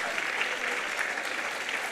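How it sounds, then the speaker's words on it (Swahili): An audience at an education and leadership congress applauds for Samuel, a continuous, even patter of many hands clapping together, moderately loud and sustained without pause. "Makofi mazuri."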